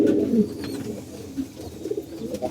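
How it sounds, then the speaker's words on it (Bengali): Pigeons coo softly and repeatedly at close range, low rounded calls overlapping in a calm loft with no talking. "আর এই যে আমাদের কবুতরগুলো দেখেন সবগুলো কবুতর এখানে আছে"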